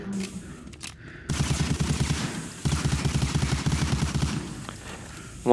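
Gunfire from the video game Medal of Honor Allied Assault: two long stretches of rapid, rhythmic automatic bursts, loud and close, separated by a brief pause and followed by quieter game ambience.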